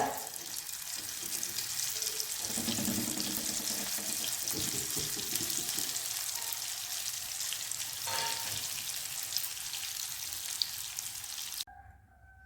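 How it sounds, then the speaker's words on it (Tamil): Chickpea kebabs frying in oil over a medium flame, a dense, steady close sizzle running throughout with faint clatter beneath, then cutting off abruptly near the end. "இப்போ நம்ம செஞ்சு வச்சுருக்கிற கபாப் வந்து எண்ணெயில் வந்து சேர்த்துக்கலாம்"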